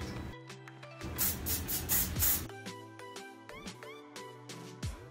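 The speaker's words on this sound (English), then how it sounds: "I like to use hairspray to" Hairspray sprays onto eyebrows in short, close hissing bursts, several quick spritzes in a row, with quiet clicks and soft background sounds between them.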